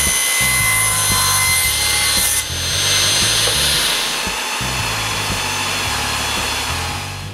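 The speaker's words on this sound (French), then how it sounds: "je coupe les 2 extrémités du bout de bois qui retiendra le panier en dessous" A handsaw cuts the ends off a piece of wood for a dog basket holder, producing loud, close, rhythmic rasping back-and-forth strokes that carry on steadily with a short break midway.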